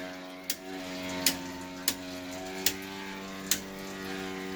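An Electrolux washer keeps running with the breakers off, giving a steady electrical hum with layered tones and a sharp tick repeating about every 0.7 seconds.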